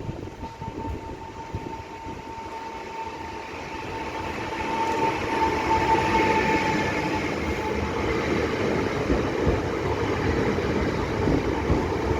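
A train, a Koleje Kujawsko-Pomorskie Elf 2 electric unit, rumbles into Bydgoszcz Główna station, its steady rolling noise growing louder and closer over several seconds, with a faint tonal whine above the wheel clatter.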